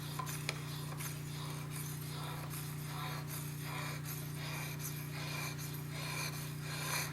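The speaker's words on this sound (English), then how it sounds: "So you sharpen it until you get a burr on the knife" Knife drawn across a whetstone in soft, repeated gritty strokes, close and fairly quiet over a constant low electrical hum.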